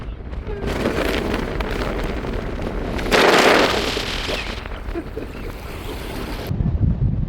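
Sea waves wash and surge at Bantham Beach in a shallow coastal bay, a continuous rushing roar with buffeting wind on the microphone and one louder swell in the middle.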